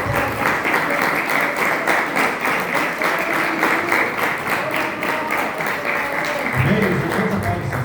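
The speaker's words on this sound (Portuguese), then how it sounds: "Vamos dar uma salva de palmas para Jesus." A church congregation at a worship service applauding together, loud steady clapping throughout, with some voices underneath near the end.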